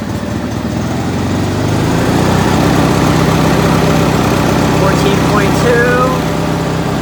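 A tractor engine is brought up from low throttle to mid throttle, its steady, close drone stepping up to a firmer, higher hum after a couple of seconds and then holding evenly.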